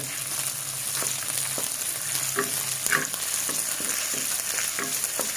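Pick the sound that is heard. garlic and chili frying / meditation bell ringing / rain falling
garlic and chili frying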